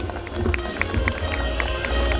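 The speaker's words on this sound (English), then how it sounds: "Give him a round of applause, everybody." A crowd at an awards ceremony in Kolkata breaks into applause, a dense, continuous clatter of many hands clapping with a few louder individual claps standing out.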